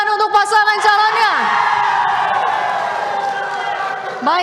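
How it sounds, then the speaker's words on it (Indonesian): Supporters of candidate pair number 5 cheer loudly at the third public debate of the 2024 Parigi Moutong regency election, with a dense crowd of whoops and shouts rising and sustained throughout. "Pendukung paslon nomor urut 5 silakan tepuk tangan untuk pasangan calonnya"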